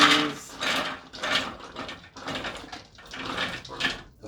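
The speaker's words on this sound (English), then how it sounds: "Grinding corn in the food processor" A food processor grinds corn for tortillas in rhythmic pulses, about six gritty whirring bursts with short pauses between them, close and moderately loud with no talking.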